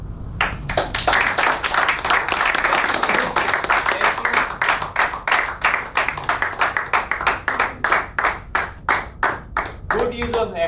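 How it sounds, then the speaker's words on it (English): Audience applause after a student's speech on water conservation: a long burst of many hands clapping, loud and close, thinning toward the end into a rhythmic, more separated clapping pattern, with a voice briefly heard near the close. "A big round of applause for Yashvi."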